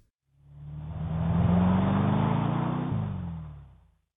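Engine drone of a car travelling down a street, building up, holding steady with a climbing tone, dropping at a gear change, then trailing off into silence.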